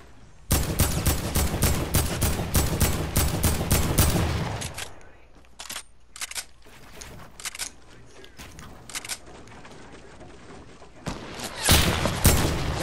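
Rapid automatic gunfire in the Fortnite video game, with a heavy assault rifle firing dense loud bursts, then scattered shorter volleys and single shots near and far, while a player talks over the fighting.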